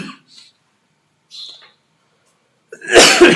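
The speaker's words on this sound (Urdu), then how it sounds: "سوری کھانسی کی وجہ سے نا تھوڑا سا ڈسٹرب ہو میں۔" A single loud, harsh cough bursts out close to the microphone near the end, after a couple of faint breathy sounds and silence.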